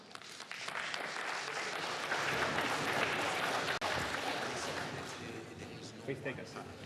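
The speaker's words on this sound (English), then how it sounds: "So please, everybody give him a warm round of applause and let's welcome him on stage." Audience applause fills a conference hall at a technology summit as a moderator comes on stage, a dense, steady clapping that fades slightly toward the end.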